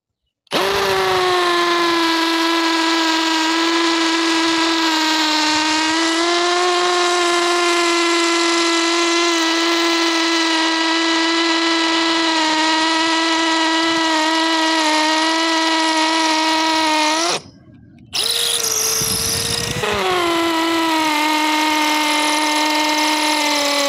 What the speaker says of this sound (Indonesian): saya akan menguji fitur hammer impact-nya ya